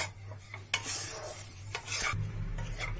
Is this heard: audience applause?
no